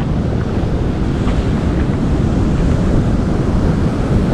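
Open-sea waves wash steadily beside a fishing spot, a broad continuous rush of surf heavily mixed with wind buffeting the microphone, with no one speaking.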